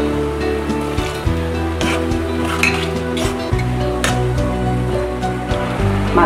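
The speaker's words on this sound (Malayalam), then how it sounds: "ഗ്രീൻ പീസ് അല്പം ഒന്ന് ഇളക്കുക." Green peas masala curry, a Kerala dish, stirred in a pan: a steady sizzle with scraping and light clinks of a spoon against the metal, close and continuous, with no talking.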